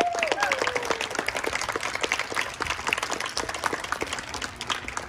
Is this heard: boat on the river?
no